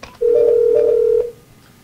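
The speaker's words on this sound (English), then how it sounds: "I'm ringing the phone right now. It's not getting answered." An office phone rings unanswered through a phone system: a single steady ring tone lasting about a second, clear and alone, then silence.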